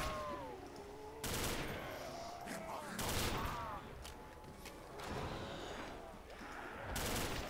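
A PTRS rifle fires in Call of Duty: World at War zombies, a few loud, heavy shots spaced about two seconds apart, mixed with game noises.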